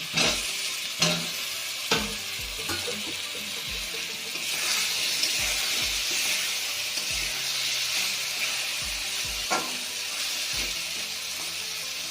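Fried potatoes stirred into sizzling spiced masala in a pan, a constant frying hiss broken by repeated sharp scraping knocks of the spoon against the vessel, close and alone with no talking.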